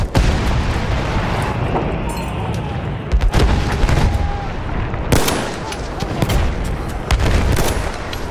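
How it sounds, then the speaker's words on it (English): Rapid bursts of enemy machine gun fire ring out during a Battlefield 1 battle, with explosive booms and sharp cracks in a dense, loud battlefield mix that surges and falls in intensity. "enemy machine gun."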